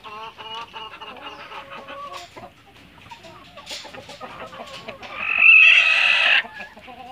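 Hens in a poultry coop cluck and chatter close by in uneven bursts, and a louder, sustained call, likely a rooster crowing, rises near the end.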